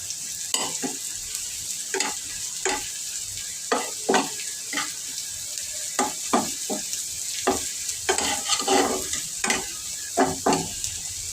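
Onions fry lightly in a pan under a steady soft sizzle, with a spatula scraping and stirring in irregular clusters of sharp strokes, close and fairly loud, with no voices.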